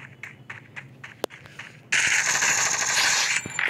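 Rapid automatic Tommy gun fire in a first-person shooter game, a dense sustained burst of shots lasting nearly two seconds after a few quieter clicks and a single sharp report, close and loud.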